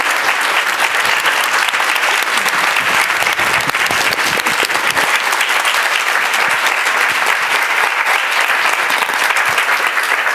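Loud, dense applause from a lecture audience fills the whole stretch, steady and sustained with no break.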